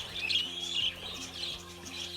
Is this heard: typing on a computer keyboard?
no